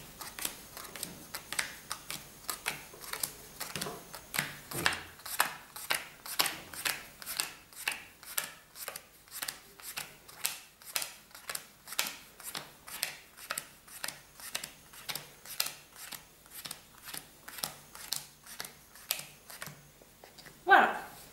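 Playing cards dealt one by one into four piles for a card trick, a long steady run of crisp snapping flicks repeating about twice a second, close and clear, with no one talking.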